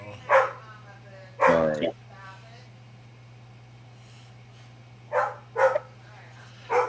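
A small dog barks in short bursts, about five, near and fairly loud, with someone talking between them over a steady low hum.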